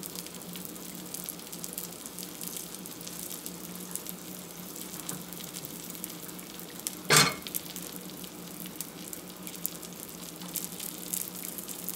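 An egg frying in a cast iron skillet on a stove burner, a steady close sizzle running throughout with one brief louder clatter midway, with no voices.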